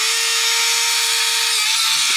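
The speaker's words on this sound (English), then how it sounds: "I love this drill bit." A high-pitched power drill whines steadily and close, its pitch dipping slightly near the end as the bit works through a plastic model tank turret.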